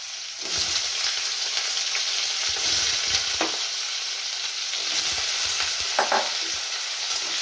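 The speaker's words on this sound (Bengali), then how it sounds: "আমি প্রথমে আলুটাকে একটু লালচে করে ভেজে নিচ্ছি।" Diced potatoes sizzle steadily in a hot pan while a spatula periodically scrapes and stirs them, sharper clatters punctuating the constant frying hiss, with no voices.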